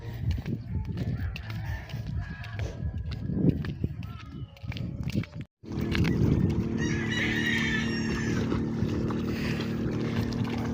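A small boat engine hums steadily at a distance on a calm sea, with roosters crowing and clucking nearby and a voice talking briefly early on.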